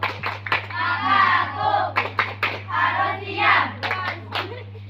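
Audience clapping in a rhythmic clapping game at a religious speaking contest, sharp patterned hand claps in bursts alternating with children's voices chanting along, over a steady low electrical hum.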